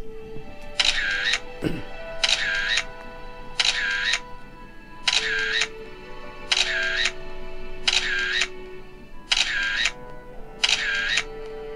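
Camera shutter sound effects fire eight times in a steady, evenly spaced rhythm, each a loud crisp mechanical burst, played back for a short social-media reel, with a brief low sweep near the start.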